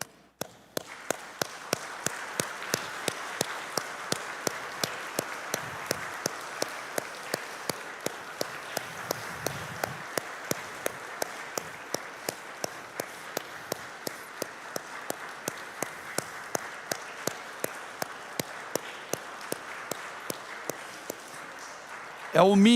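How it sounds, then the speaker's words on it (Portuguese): A church congregation applauds mothers with a sustained, even wash of clapping that carries on steadily for over twenty seconds, with regular sharp tapping accents running through it. "dando a melhor salva de palmas que você puder"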